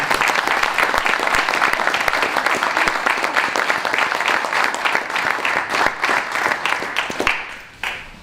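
A large audience at a Sabadell primaries political event gives sustained, dense applause, loud and steady for several seconds before tapering off at the end.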